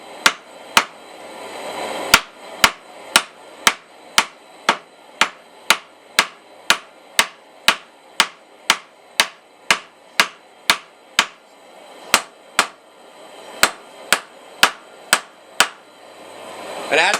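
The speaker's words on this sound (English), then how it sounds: "we're just going to do light blows to pull that steel out" Sharp hammer blows on hot steel while forging a leaf key chain ring out one after another at a steady, fairly quick pace, about thirty metallic strikes close by with no talking.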